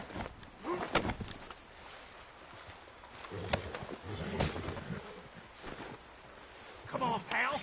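Horse hooves clip-clop in a rough rhythm in the video game Red Dead Redemption 2 while voices shout and talk over them.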